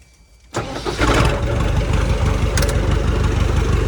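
MTZ tractor diesel engine driving its power take-off shaft, firing up abruptly after a quiet start and settling into a loud, close, steady low rumbling idle with a faint whine running through it.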